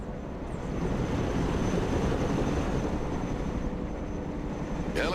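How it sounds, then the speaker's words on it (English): A military helicopter in the video game Broken Arrow gives off a loud, steady engine roar that holds evenly throughout with no talking over it. "Helicopters are impressive machines. Boy, are they noisy."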